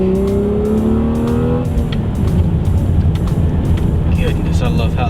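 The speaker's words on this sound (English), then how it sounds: "Goodness, I love how this car sounds." A car fitted with Hankook Ventus S1 Noble2 tires drives along with a loud, steady engine note and road and tire roar. The engine pitch rises, then settles into a constant rumble, and speech is faintly present underneath.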